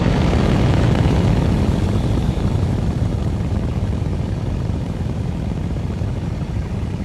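A solid-fuel rocket booster igniting at a missile test launch: a loud, continuous broadband roar that holds steady and thins out slightly over several seconds, with no other sounds.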